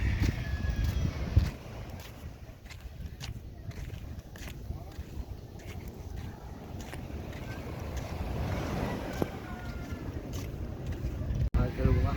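Boats getting underway on a calm sea, with a steady low rumble of motion and water alongside wind noise on the microphone, and faint voices in the background.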